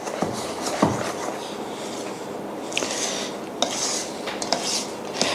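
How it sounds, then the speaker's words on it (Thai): Pancake batter being stirred in a bowl makes close, irregular clinks and soft scraping of a utensil against the bowl, continuous over a faint background hiss. "คนให้เข้ากัน"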